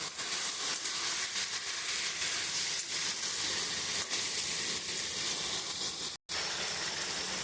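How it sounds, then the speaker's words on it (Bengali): Potatoes with chilli powder and spices frying in a pan for a split chickpea dhoka curry, a steady loud sizzle and hiss filling the whole stretch with one brief break near the end. "দিয়ে এবার আমি মশলাটা দিয়ে আলুটা দিয়ে খুব সুন্দর করে আমি কষিয়ে নেব"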